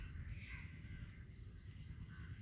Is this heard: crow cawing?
yes